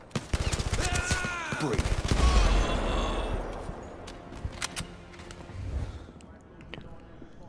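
Gunshots in Blood & Truth, a PlayStation VR shooter: a burst of fast, sharp shots at the start, then scattered fainter reports and rumbling game noise. A voice says a word briefly.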